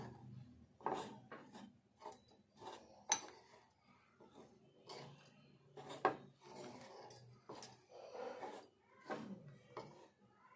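Bitter gourd pakora batter with turmeric and lemon juice being mixed by hand in a bowl, giving irregular wet squelching and rubbing bursts, close and moderately loud, with no talk.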